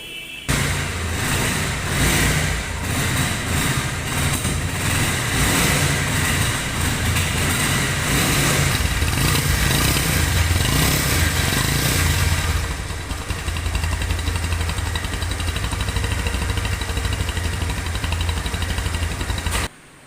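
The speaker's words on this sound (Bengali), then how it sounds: "বাইকটির সাউন্ড কোয়ালিটি দেখলেন আপনারা। পিক আপ টেনে দিয়ে এবং ছেড়ে দিয়ে দেখালাম আপনাদেরকে" A Bajaj Pulsar motorcycle engine is revved hard through repeated throttle pulls and then let back down to a steady idle, loud and close with no one speaking.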